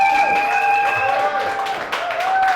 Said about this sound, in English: Please give a little applause for him.